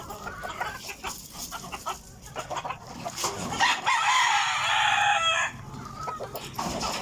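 Backyard chickens cluck in quick bursts nearby during morning feeding, and a rooster lets out one long, loud crow midway before the clucking resumes.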